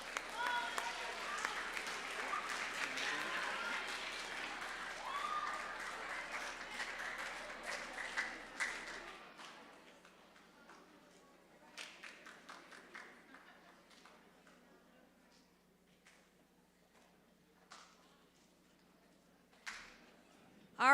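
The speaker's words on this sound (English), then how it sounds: "We can give them one more round of applause." Audience applause for students at a school scholar assembly, loud and dense for the first nine seconds and then fading to scattered claps and faint room noise.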